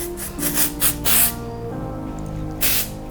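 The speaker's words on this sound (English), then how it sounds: "And just kind of spray texture spray for how you want it." Several short hissing bursts from a can of texture spray onto hair, close and loud, separated by brief pauses, with a faint hum underneath.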